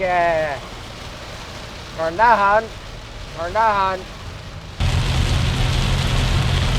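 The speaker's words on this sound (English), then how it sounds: "this is the weekend everyone's bringing the turf home, and it pisses rain" Heavy rain drums steadily on a car roof and windscreen during a downpour, a constant dense hiss that swells louder near the end, while a person talks inside the car.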